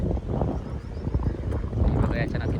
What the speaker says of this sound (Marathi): तुम्हाला आवाज येत असेल वाऱ्याचा भरपूर असा वारा आहे